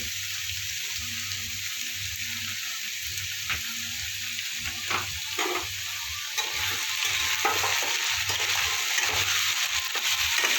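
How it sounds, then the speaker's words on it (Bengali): Steady hiss of salted potatoes frying in a pan, with intermittent scraping and stirring clatter over the continuous sizzle, close and fairly loud. "আমি আলুটা কিছুটা ভেজে নেবো।"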